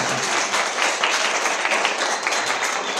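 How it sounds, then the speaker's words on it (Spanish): Students applaud for their school at a formative talk given by the judiciary, a dense, steady burst of clapping from a crowd filling the room for about three seconds. "Muy bien, fuerte la palma para su colegio."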